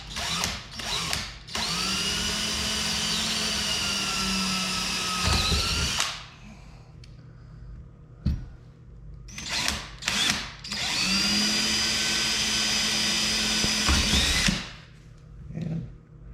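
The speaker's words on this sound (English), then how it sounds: "be aware when your drill is going to break through" A power drill bores through the body panel of an FFR MkIV Roadster in two long, loud bursts of steady whine, each a few seconds, separated by a short pause with small handling knocks.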